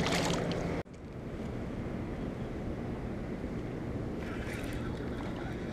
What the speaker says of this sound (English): everybody decides to bring their boats up here right now.